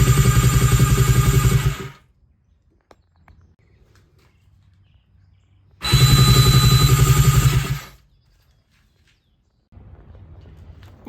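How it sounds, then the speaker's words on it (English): Kawasaki Sport Cruiser motorcycle engine cranking over on a jumper box, heard as two loud, steady, close bursts of about two seconds each, split by quiet pauses, with a fainter third burst starting at the end. "I just put the jumper box on to see if the engine turned over"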